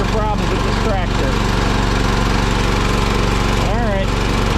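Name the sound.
John Deere 212 garden tractor engine running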